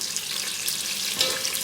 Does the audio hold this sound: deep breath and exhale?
no